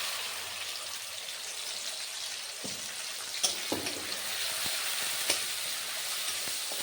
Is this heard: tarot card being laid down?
no